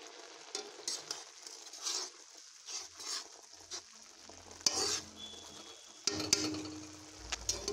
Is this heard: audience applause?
no